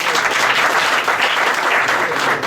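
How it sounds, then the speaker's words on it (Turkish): Audience at a Turkish poetry festival event breaking into loud, sustained applause, a thick, continuous roar of many hands clapping close by with no pauses. "güçlü alkışlarınıza davet ediyorum"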